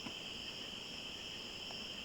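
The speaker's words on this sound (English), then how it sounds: "Those are the fall cicadas." Fall cicadas, also called dog day cicadas, drone in a steady, high-pitched buzzing chorus in a forest that holds constant throughout, fairly faint and with no voices.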